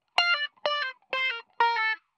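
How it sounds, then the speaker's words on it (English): Four distorted, buzzy notes run through a guitar amplifier distortion effect in Ableton, each a sharp harmonic-rich burst lasting under half a second, evenly spaced with short gaps, loud and close with no voice. "In the guitar cases, you will often see an amplifier with a distortion."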